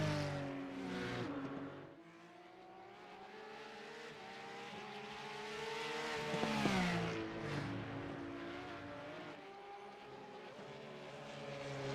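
Race car engines at the Nurburgring in the iRacing sim roar through the full stretch, rising and falling in pitch as cars accelerate, shift and pass, loud and sustained, with no talk over them.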